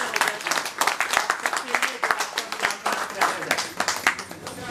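A group at a bank retirement party claps in a brisk, uneven burst, with sharp close handclaps and light voices mixed in.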